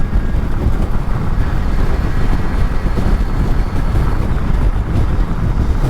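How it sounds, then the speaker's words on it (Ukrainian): Steady low rumbling wind buffeting throughout, a continuous roar with no pauses, loud and close as if hitting a microphone while moving. "Сьогодні доволі вітряна погода."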